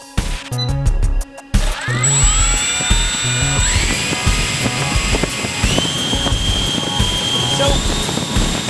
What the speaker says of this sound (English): You can see that as we step through this data, the fan changes speed as we increase power from the flight computer.